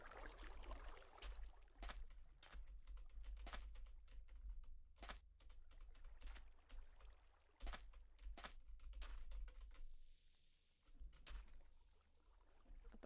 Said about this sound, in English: Why is your keyboard oddly bass boosted?